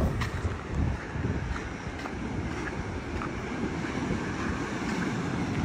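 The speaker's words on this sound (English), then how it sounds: "I'm gonna apologize in advance for the wind noise," Steady roaring wind buffets the microphone on a beach as a hurricane approaches, a constant loud low rumble with surf-like wash and no pauses.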